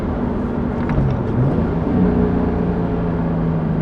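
Steady Toyota Supra engine drone with low tonal hum rising and falling slightly as throttle changes, close and continuous with road noise.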